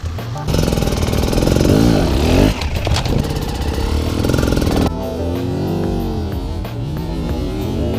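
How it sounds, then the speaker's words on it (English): A dirt bike ridden over a log, engine revving loud and close with a two-stage clutch drop: a first burst, then a brief dip and a second harder surge before settling into a lower steady drone. "Listen to how he drops the clutch in 2 stages."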